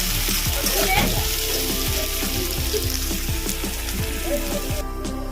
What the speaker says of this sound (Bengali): আমি দেবো কুচিয়ে রাখা পেঁয়াজ এবার পেঁয়াজটাকে লাল করে ভেজে নেব